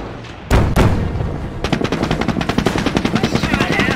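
Gunfire in Company of Heroes Opposing Fronts during the Hill 112 battle: two heavy blasts open, then a rapid, loud stream of machine-gun bursts continues to the end.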